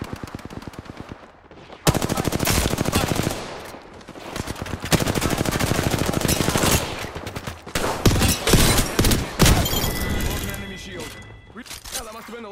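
Rapid automatic gunfire rattles in long, close bursts during an Apex Legends match, dense and loud with brief pauses between volleys, while a character's voice speaks over the shooting.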